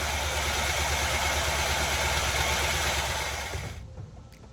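Engine of a 1981 GMC Sierra pickup truck idles with a steady low rumble, close and alone, then cuts off abruptly near the end, leaving faint ambient noise.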